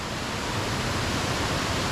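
Mae Ya Waterfall south of Chiang Mai, Thailand, gives off a steady, dense rush of falling water, loud and even throughout with no break or other sound.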